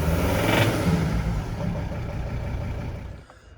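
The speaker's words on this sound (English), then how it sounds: "rev the engine" A Volvo V70 D5 diesel with a faulty injector revs up once, then holds a rough, uneven mid-pitched drone that slowly settles and drops away at the end. It sits close and loud with no talk.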